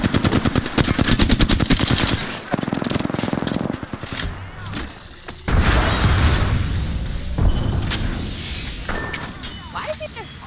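Gunfire in the video game Apex Legends: dense, loud automatic bursts for the first couple of seconds, then scattered shots, booms and impacts under a busy game mix.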